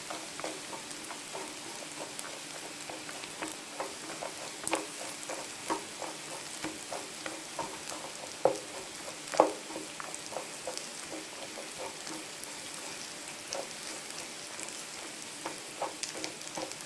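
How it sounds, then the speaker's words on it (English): Cashew nuts and raisins fry in a pan for a Kerala-style jackfruit biryani, a steady close sizzle broken by frequent light ticks and pops of stirring, with no talk. "Next I'm going to add the cashew nut and raisins."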